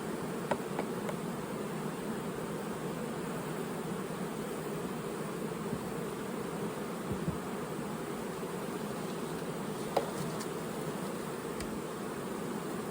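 Honey bees during a heavy nectar flow make a dense, steady hum that continues throughout, close and unbroken, with a few faint clicks and no talking.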